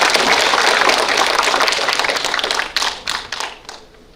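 Audience at a joint candidate speech meeting in a Korean redevelopment district applauds, a dense burst of clapping that thins into a few scattered claps before fading.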